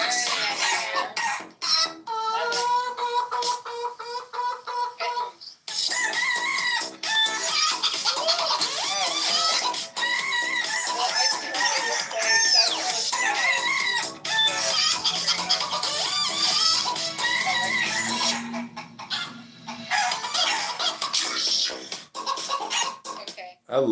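Chicken clucks and rooster crowing form part of a busy podcast theme intro song, a loud, dense music mix with sound effects layered throughout.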